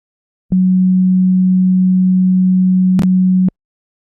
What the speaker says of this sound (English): Watch what it looks like when I play this sine wave by itself.